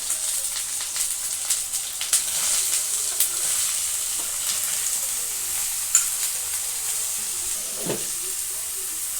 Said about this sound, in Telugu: ఇప్పుడు ముందుగా కట్ చేసి పెట్టుకున్న బీరకాయల్ని వేస్తున్నానండి